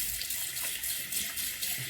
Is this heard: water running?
yes